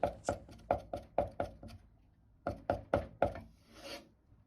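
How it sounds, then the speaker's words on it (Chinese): A knife mincing scallion and ginger together on a chopping board: two bursts of sharp, rhythmic chops, about six quick strokes each, separated by a short pause and ending in a brief scrape, loud and close. "小葱一根，切成葱花后再和生姜一起剁碎"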